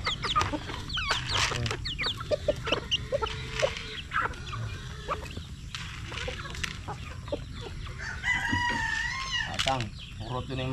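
Chickens cluck and a rooster crows repeatedly close by on a farm, with scattered calls throughout and voices talking faintly in the background.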